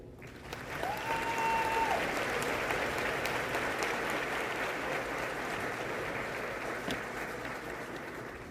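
Sustained applause from a large audience at a high school graduation ceremony in an auditorium or hall, an even roar of many hands clapping for several seconds, faintly trailing off toward the end.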